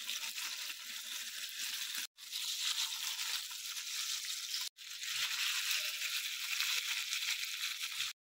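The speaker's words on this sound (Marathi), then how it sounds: "बघा मी आता याच्यामध्ये तेलामध्ये फ्राय करत ठेवले" Nivti mudskipper fish shallow frying in hot oil on medium heat, a close, continuous crackling sizzle broken by two brief silent gaps.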